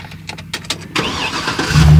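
A truck engine is cranked with the ignition key, giving a series of short rhythmic starter pulses for about a second. The engine then catches and settles into a loud, close rumble that builds toward the end.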